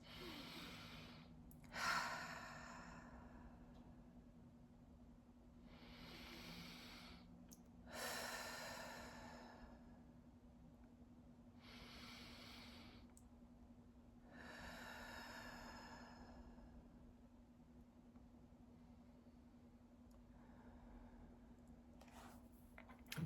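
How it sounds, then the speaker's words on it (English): Five slow, deliberate deep breaths, each a soft whooshing inhale or exhale spaced a few seconds apart, faint and close over a steady low electrical hum. "Take 5 deliberate breaths."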